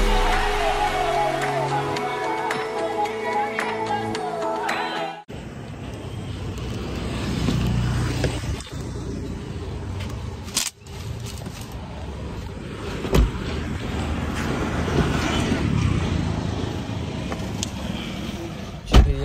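City street traffic with buses and auto rickshaws on a rainy Sunday in Solapur, India: a continuous low rumble of passing engines and road noise, with occasional louder thumps and bumps, steady and moderately close.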